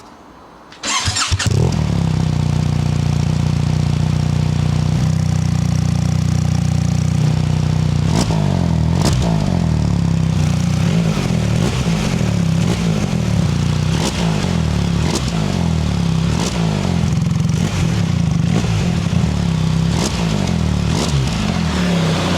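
A BMW R1300GS fitted with a QD slip-on exhaust fires up and settles into a loud, close idle, its boxer engine thrumming steadily with occasional blips of the throttle and no talk.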